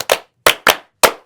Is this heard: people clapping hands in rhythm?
yes